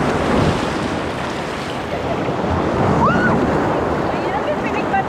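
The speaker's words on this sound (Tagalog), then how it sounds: "Ang lakas ng agos." Strong surf and rushing water at a beach resort in San Narciso, Zambales, roar steadily and loudly alongside heavy wind buffeting the microphone, with a faint whistle-like tone rising briefly midway.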